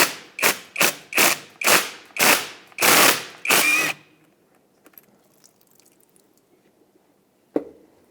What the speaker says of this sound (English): Now take a 14mm socket, remove the banjo bolt from the old caliper